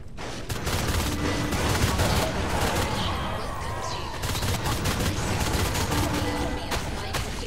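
Gunfire in the video game Natural Selection II, dense rapid bursts of shots rattling close and loud almost without pause, with sharp individual cracks standing out.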